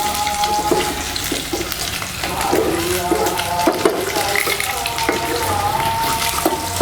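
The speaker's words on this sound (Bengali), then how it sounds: "দিয়ে আমরা একটু নেড়ে ছেড়ে দিব।" Potato, egg and rice frying in a pan while being stirred, a continuous sizzle with scraping and clinking of the utensil against the pan, close and fairly loud, with no talk.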